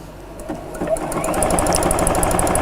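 Sewing machine stitching a zigzag over two joined pieces of fabric, a steady close rapid whirring and ticking that builds up after a quiet start and runs continuously.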